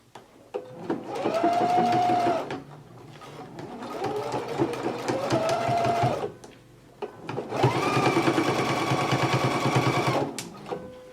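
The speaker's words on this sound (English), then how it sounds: "we're just going around in a circular motion to stitch the sleeve lining to the band in the jacket" A sewing machine stitching a jacket sleeve lining to the band, running in three rapid, rattling bursts with short pauses between, close and moderately loud, the motor pitch rising and falling with each run.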